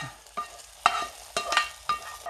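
A fried ground mixture is poured and stirred into a chicken and ash gourd curry in a pan, giving several separate scraping, clattering stirs over a soft frying sizzle, close by.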